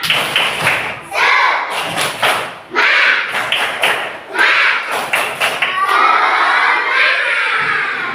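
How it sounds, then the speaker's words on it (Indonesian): Classroom of children perform a rhythmic spirit clap, loud bursts of clapping and thumping in patterned groups separated by short pauses, with children's voices shouting along between and over the claps. "Kita tepuk semangat dulu ya"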